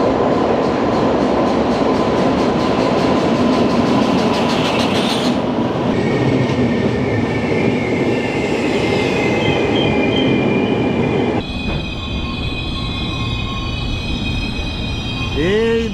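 The Kanchankanya Express rumbles steadily at a station platform at night, with a sustained low roar of railcars and wheels. The noise shifts partway through, and a brief metallic wheel squeal rises near the end.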